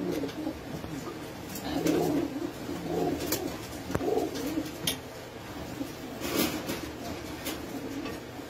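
Pigeons in a loft coo repeatedly in low, throaty bursts, with faint chirps and rustling in the background.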